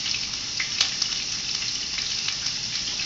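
Onion sizzles and fries in a pan for carne guisada, a steady close crackle with scattered pops and no voices.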